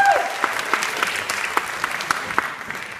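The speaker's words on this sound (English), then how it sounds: "People do applaud" Audience applause at an a cappella Christmas show in Texas, a thinning patter of hand claps with distinct individual claps standing out near the end, following a brief spoken word.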